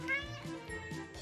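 A cat meows in a short, rising call with harmonic tones, close and fairly clear over a low background hum, the cry stretching across about a second.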